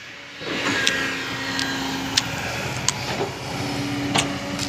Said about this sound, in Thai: ดูนะครับเมโครกำลังจกอยู่นะครับ